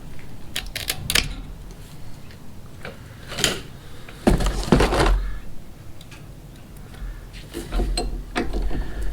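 Cutting the frayed end off a PTFE fuel line while assembling and routing fuel lines on a Foxbody Mustang, heard as a few sharp, close crunching snips and clicks in separate bursts with quiet gaps between.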